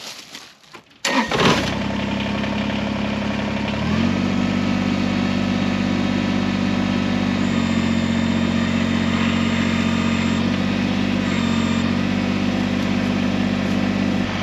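A Kubota BX23s sub-compact tractor engine starts up after a brief crank, then runs loud and close, its steady drone rising slightly in pitch as it works to lift a chained log.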